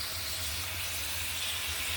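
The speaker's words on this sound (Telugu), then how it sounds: "మళ్ళీ ఇందులో పెట్టేసి ఆయిల్లో బాగా వేయిస్తాను" Crabs frying in hot oil, seasoned with salt, chili powder and turmeric: a continuous, even sizzle and hiss that holds steady throughout, near and fairly loud.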